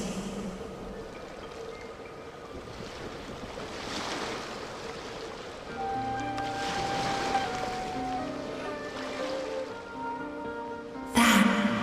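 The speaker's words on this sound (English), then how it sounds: "Go to where you can hear the sound of the waves." Ocean waves in a Genshin Impact cutscene wash softly and steadily throughout, with gentle swells of surf blending beneath soft background music and a brief brighter splash near the end.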